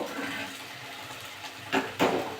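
Hot water is poured into potato curry simmering in a pan, a close sloshing pour with a couple of louder splashing surges near the end, no talking.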